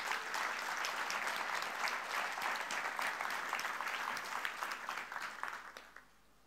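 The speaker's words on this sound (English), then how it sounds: "I would like a quick round of applause for the security team in doing that" Keynote audience applause fills a conference hall, a dense sustained clapping from a large crowd that holds steady for several seconds and then fades out, with no talk over it.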